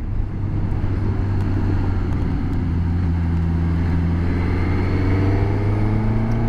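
Suzuki GSX-S1000GT motorcycle riding on the road, a steady loud engine drone with rising and falling tones as the rider holds a line, wind noise underneath, no voices.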